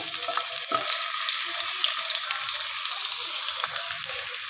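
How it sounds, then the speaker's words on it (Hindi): Potatoes fry in oil in a pan on a lit stove, giving a steady, close hiss and crackle with no pauses and no talking. "आलू को हल्का सा फ्राई कर लेंगे।"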